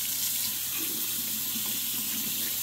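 Tap water runs steadily over a chain being rinsed at a sink, a close, even hiss of flowing water without talk.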